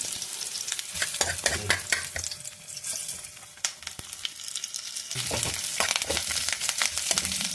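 Mustard seeds, garlic and chillies crackle and sizzle in hot oil with sharp popping bursts and stirring clatter, close and lively, rising again after a brief lull, tempering for a coconut and peanut chutney.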